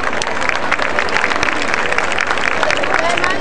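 Dense, sustained applause from a large audience at a pageant coronation at a fair, cheering a princess, loud and continuous, with crowd voices and some speech mixed in.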